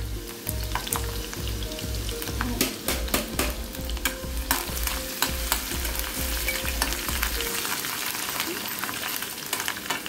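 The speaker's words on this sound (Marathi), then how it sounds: "हे बघा यात आम्ही आता लसूण घातलाय, तो ठेचून घातलाय" Crushed garlic frying in a pan for a village-style chicken curry, a steady close sizzle with rhythmic stirring scrapes and clinks through the first two thirds, then continuous frying alone.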